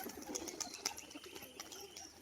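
Pigeons in a loft holding a white-winged male of unusual coloring give faint, soft coos, with a few light clicks or wing flutters, all quiet and somewhat distant.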